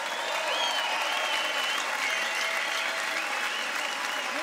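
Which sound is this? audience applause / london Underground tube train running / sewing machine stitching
audience applause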